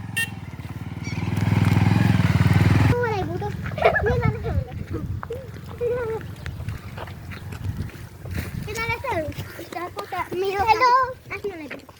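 A motorcycle roars past close by for a couple of seconds in Kirtipur, then fades as children's voices chatter over outdoor noise.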